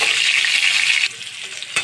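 Potatoes fry in a pan with a bright, loud, close sizzle that drops suddenly to a quieter crackle, ending on a brief stir.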